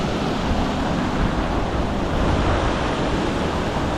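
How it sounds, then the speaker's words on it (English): Fierce waterfall at Kenmere Falls in Tasmania, a steady, dense roar of rushing water heard from close by at the creek edge, constant and unbroken with no voices. "We can't really get on the waterfall, it's going to be too fierce of water."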